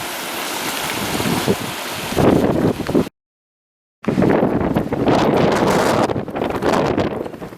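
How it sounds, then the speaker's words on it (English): Strong wind roars across the open moorland of Dartmoor during a hike, buffeting the microphone in loud, gusty bursts with a brief silent break midway. "the wind is absolutely horrendous"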